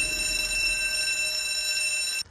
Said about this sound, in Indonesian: Tapi aksi Park terhenti karena bel kebakaran apartemen berbunyi